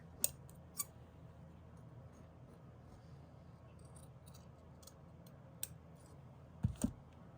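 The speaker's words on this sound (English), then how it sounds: "I'm going to fold it in half. And cut it about an inch." Scissors cut through folded fabric for a handmade Christmas snowman gnome's beard, a few faint crisp snips spaced across a quiet room, with a quick double snip near the end.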